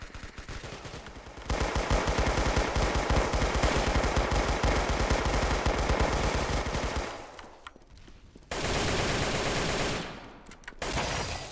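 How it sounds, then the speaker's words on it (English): Loud, sustained bursts of AK assault rifle gunfire: dense rapid-fire volleys with a short pause, then another long burst and a brief final one, close and harsh. "An AK."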